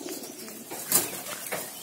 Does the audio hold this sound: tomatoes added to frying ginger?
no